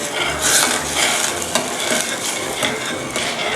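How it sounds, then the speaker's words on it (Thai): A spoon stirs dim sum sauce steadily in a pot while a starch slurry is poured in, giving a close, continuous scraping and swishing with soft clinks against the pan. "ระหว่างนี้นะคะอีกมือหนึ่งคอยคนด้วยนะคะ"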